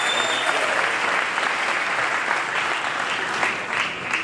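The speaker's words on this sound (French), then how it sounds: "Monsieur Jacques Chaloupa, sous vos applaudissements." At a political opposition convention, a large crowd claps continuously, a dense, loud wash of applause sustained throughout without pause.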